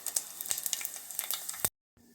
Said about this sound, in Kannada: ಸ್ವಲ್ಪ ಒಗ್ಗರಣೆ ಜೀರಿಗೆ ಹಾಕ್ತೀನಿ.